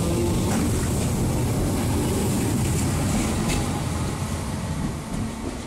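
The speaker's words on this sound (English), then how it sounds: "there goes the train" A train pulls away from a station at Little Sutton, a steady broadband rumble and roar that fills the whole clip at close range, easing slightly toward the end, with no voices.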